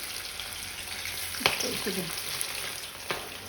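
Sweet corn pakodi made with rice flour frying in hot oil on low heat, a soft continuous sizzle with a couple of sharp pops and light stirring clinks.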